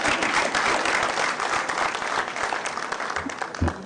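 Sustained applause from a group on stage at a sugar factory launch ceremony honouring a best sugar factory award, dense steady clapping throughout with a slight swell near the end.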